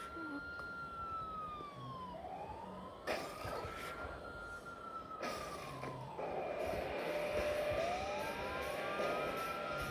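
A video game police car siren wails continuously in rising and falling sweeps, with a low rumbling engine beneath and a couple of sharp bursts of noise.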